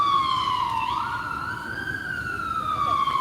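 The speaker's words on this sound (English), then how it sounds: "We're gonna wait for the ambulance to go by because I can't hear myself talk." An ambulance siren wails loudly and steadily as it passes along a street, its pitch sweeping and wavering over a low rumble of road traffic.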